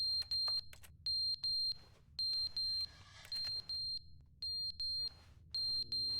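Electronic alarm in The Stanley Parable: Ultra Deluxe giving repeated bursts of shrill, steady high beeping in an irregular on-off rhythm, loud and close over a low rumbling background, with no talk.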